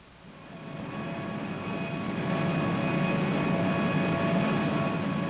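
North American XB-70A Valkyrie supersonic test aircraft in flight, a loud, steady jet roar with a whining engine tone that swells after the first second and then holds, with no talk.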